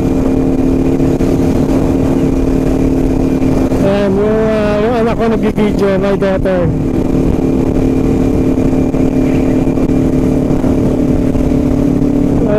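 Kawasaki Ninja 400 (2021) ridden on the CAVITEX expressway, a steady engine drone under strong wind roar, with a brief rising shift of pitch midway while someone talks.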